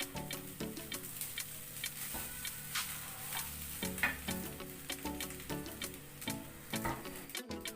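Rice is tipped into a hot pan for coconut rice and stirred, giving a steady close sizzle with a scatter of light scraping and ticking from the spoon throughout.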